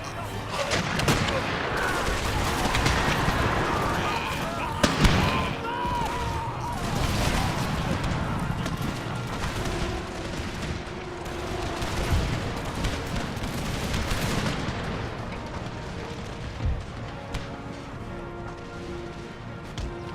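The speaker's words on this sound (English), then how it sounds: "The officer signalled the volley with his pistol shot." Musket volleys crackle across an Empire: Total War battlefield, with a pistol shot signalling the fire, a sharp crash near five seconds, then scattered distant shots and battle noise continuing at moderate loudness.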